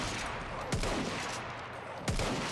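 Rapid gunfire in Battlefield 1 on the Lupkow Pass map, heard as a steady stream of shots at moderate distance with two sharper, louder cracks standing out above the rest.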